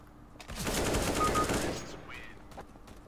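Automatic gunfire in Counter-Strike: Global Offensive, a sustained rapid burst of shots lasting about a second and a half, loud and close, trailing off into quieter game noise.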